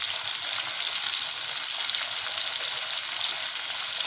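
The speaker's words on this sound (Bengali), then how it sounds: "এঁচোড়গুলোকে একটু বেশি সময় ধরে ভাজা করে নিতে হবে।" Raw, unboiled jackfruit pieces fry in hot oil in a kadai, giving a loud, steady, dense sizzle that holds unbroken throughout with no voices.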